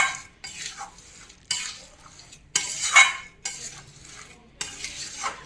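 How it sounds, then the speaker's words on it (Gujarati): Jaggery is stirred into thick dough in a pan for katlu paak, with loud, rough scraping strokes in repeated bursts of about a second each, punctuated by spoon knocks against the pan and no talking. "આવી રીતે આપણે ગોળ બરાબર અંદર મિક્સ થઈ જાય ને ત્યાં સુધી એને અંદર ભેળવી લેવાનું બરાબર"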